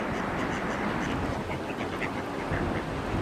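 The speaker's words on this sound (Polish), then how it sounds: "Śliczne te kaczuszki." Ducks quacking by a small river as they are fed, a dense, steady chorus of close calls filling the whole stretch with no pauses.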